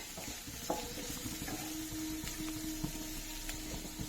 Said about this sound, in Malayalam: സവാള അരിഞ്ഞത്, കുഞ്ഞു അരിഞ്ഞത് അതിട്ട് നല്ലോണം ഒന്ന് വഴറ്റുക